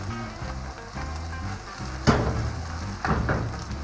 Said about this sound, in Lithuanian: Svogūną iškepė.